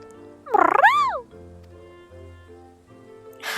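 A cat in Final Fantasy XIV lets out one loud, wavering meow with a rising and falling pitch, followed by softer in-game ambience and a brief burst of noise at the end.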